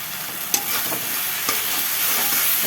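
Spice paste with green chillies sizzling and frying in a generous amount of oil in a pan, a steady close hiss with a couple of sharp stirring clicks from a spoon against the pan, no voices.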